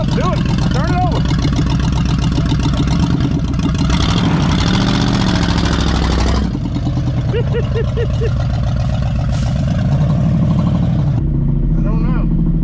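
A 1979 Chevrolet C10 squarebody pickup engine runs loudly and close in a steady, rough idle that dips and revs slightly, with people talking over it.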